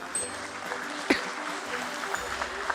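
An audience at the NSDL listing ceremony at BSE gives a round of applause, soft and fairly distant, a patchy scatter of clapping with faint voices underneath.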